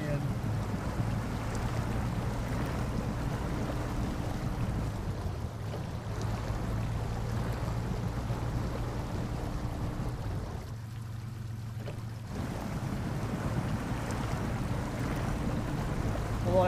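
A truck drives through water in the Snow Runner video game, a continuous low engine rumble with sloshing and wind-like noise, steady throughout apart from a brief dip, with a voice speaking over it.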